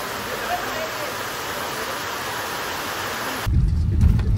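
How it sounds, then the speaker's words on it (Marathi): Steady, dense hiss of heavy rain pouring down, broad and continuous, turning rougher and more rumbling near the end. "ॲक्च्युली थोडा जास्त आहे पाऊस"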